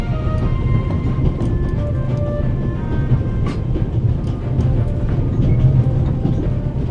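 A train rolling along its rails, a continuous close rumble with faint clickety-clack and metallic squeals, steady and alone with no voices.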